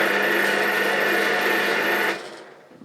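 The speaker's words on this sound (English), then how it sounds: "I'll switch the drill on just to show you that" An electric drill spins a homemade rolling pin sander. The whir is steady and fairly loud, with a constant mechanical tone. After about two seconds it stops abruptly and winds down to quiet.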